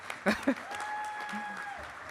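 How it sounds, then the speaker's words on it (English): Conference audience in an auditorium applauds on the final day of WikiConference North America 2025, a light, steady patter of clapping following two short spoken bursts, with a faint cheer or whistle held above it. "Round of applause for that."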